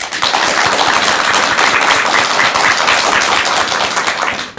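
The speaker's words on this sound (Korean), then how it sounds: "우리가 어머님들을 위한 뜨거운 박수 한번 치도록 하겠습니다" An audience breaks into dense, steady applause for mothers, a continuous wash of many hands clapping loudly for a few seconds before tapering off.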